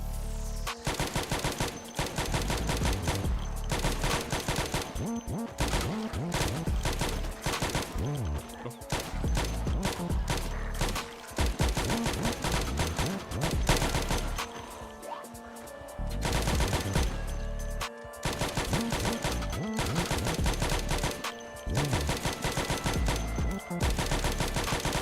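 Rapid bursts of gunfire from the zombie survival game Project Zomboid come in dense automatic volleys and sharp single shots. The firing runs loud and almost continuously, with only short lulls.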